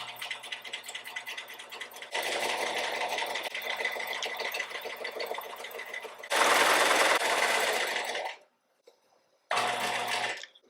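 Sewing machine stitching steadily around the edge of a reversible apron at a quarter-inch seam, a loud continuous whir that pauses briefly near the end, then starts again for a short final run.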